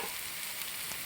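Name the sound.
spices frying in pan for Kerala beef curry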